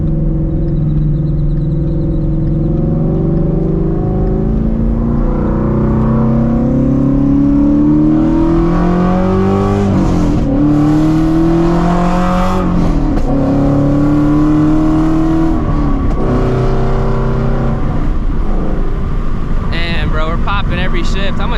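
Straight-piped Shelby GT350 Mustang roaring loudly from inside the cabin, its harsh exhaust climbing through hard pulls with rising, falling pitch sweeps at each shift, steady and close throughout.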